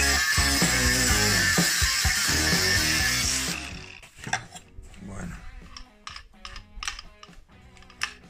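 Hand sanding of a Harley-Davidson Sportster motorcycle part with sandpaper: close, rough scraping strokes in an uneven rhythm, following a few seconds of loud, harsh grinding noise.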